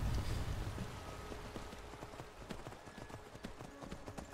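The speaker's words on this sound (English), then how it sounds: "Come on, ride our horses." Horse hooves gallop in a Skyrim-style fantasy game while riding toward Riverwood, a quick, fairly faint run of hoofbeats under soft rain-like ambience.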